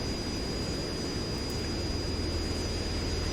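Steady, dense engine drone of a ground-attack plane in a video game, loud and unbroken throughout with a faint high whine on top and no voices.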